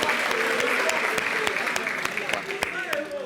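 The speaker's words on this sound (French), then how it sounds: "On l'applaudit" An audience applauds on a French local TV holiday programme, a steady wash of clapping with a few sharp individual claps standing out, and voices talk over it throughout.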